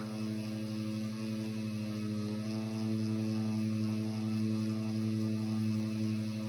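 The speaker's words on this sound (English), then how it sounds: "Let the Dremel do the work." A Dremel rotary tool polishing stainless steel with compound gives a steady, continuous buzzing hum that stays even and close throughout, with no speech.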